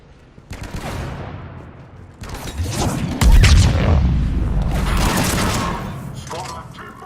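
Gunfire in Mass Effect 3 on Omega: loud, dense bursts of automatic weapons and heavy booming shots that build into a sustained barrage, with voices shouting over the combat.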